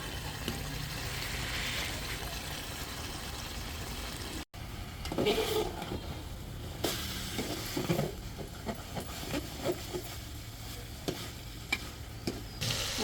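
Chicken pieces and raw green papaya sautéing in a pan for a white curry, with steady stir-fry sizzle and intermittent scraping and stirring clatter, close by, no talking.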